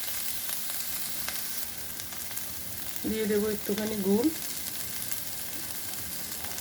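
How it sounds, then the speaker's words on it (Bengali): Radish greens fry in a pan on a small three-burner stove, a steady close sizzle running throughout while a voice speaks briefly partway through. "ভাজা ভাজা করে নেব।"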